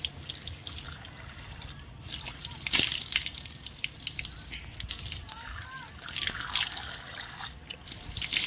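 Water splashing and dripping near a sink or tap while the face is washed during wudu ablution, with intermittent pours and trickles, close by, alongside brief faint vocal sounds.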